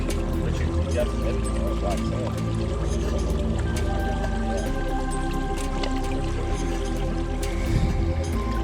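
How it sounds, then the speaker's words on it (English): Water sloshing and swirling in a gold pan during prospecting on the Ohio River, a continuous wet churning with drips and splashes over a low background rumble. "I'll lock that up and then I'll pan through this real quick"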